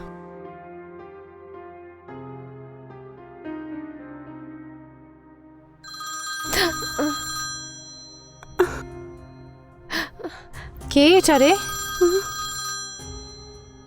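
Midway through a quiet indoor scene from a Bengali short film, an incoming call's ringtone sounds in repeated bright tonal bursts, mixed with a cough and brief speech.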